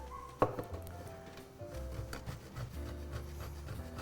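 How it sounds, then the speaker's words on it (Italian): Cheese being grated by hand in a home kitchen while cooking pasta with basil and garlic, a close, quiet scraping and rasping with a sharp knock near the start. "Ora andiamo a grattugiare il formaggio."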